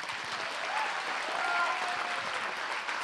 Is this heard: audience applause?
yes